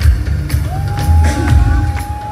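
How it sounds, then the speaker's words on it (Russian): A fashion show audience cheers and whoops as a crowd, with a steady roar of voices and a few high shouts, loud and continuous throughout. "Под ваши аплодисменты мы приветствуем следующую модель."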